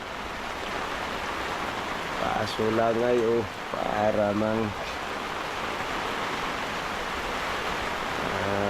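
Steady rain hisses across the whole stretch over a moored boat, with a voice speaking briefly over it before the downpour carries on alone.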